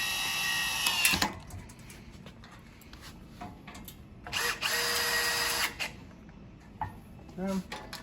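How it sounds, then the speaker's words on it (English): A handheld power driver tightens screws into a stand during assembly, with short whirring bursts separated by pauses, close and moderately loud. "Got a little power grabber set up here. I'm just gonna go ahead and tighten them in there."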